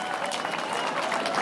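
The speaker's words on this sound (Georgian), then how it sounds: "აპლოდისმენტები თუ შეიძლება ბატონ თამაზ მიულოცოთ" Steady audience applause at a civic honorary citizens' event, dense and continuous clapping from a crowd throughout the short stretch.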